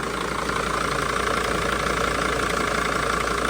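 A 2006 Dodge Sprinter diesel engine idles steadily while warming up, a continuous close rumble with no voices.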